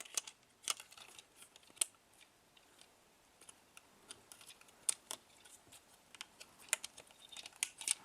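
Plastic treads on a Transformers Studio Series 37 Voyager Rampage toy are folded and tabbed into place, producing a scattered series of sharp close clicks and small snaps against quiet handling noise.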